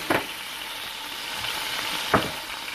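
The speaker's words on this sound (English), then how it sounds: "we're going to put in the rest of the garlic" Garlic added to a hot pan while cooking a scallop dish sizzles quietly and steadily, with two short sharp clatters near the start and end.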